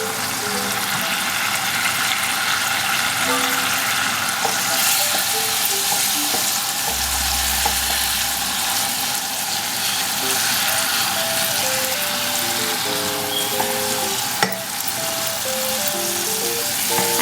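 A fish pickle mixture with dark soy sauce and lemon juice fries in a pan, a loud, continuous sizzle that runs throughout while it is stirred now and then, with a brief low thump partway through.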